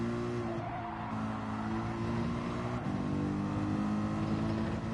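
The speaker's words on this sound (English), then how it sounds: "The constant tire screeching." Tires squeal continuously over a droning engine in the racing video game Gran Turismo 7, with shifting pitched tones as cars slide, faint and steady with no pauses.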